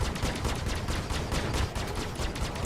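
Spaceship cannons fire in a dogfight in the space game Star Citizen, a loud continuous rapid barrage of shots with steady rhythm and no talk.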